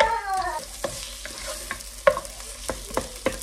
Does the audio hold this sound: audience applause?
no